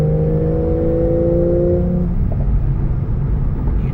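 A 2014 Porsche 911 Carrera S with a manual gearbox accelerating hard in fourth gear, a loud, close engine roar with a rising whine that fades into a steady road rumble.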